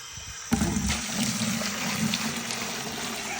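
Water poured from a gallon jug into a container to mix Elector PSP lice treatment for chickens, a steady splashing gush that starts abruptly and runs continuously, close and fairly loud.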